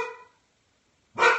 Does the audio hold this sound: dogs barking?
yes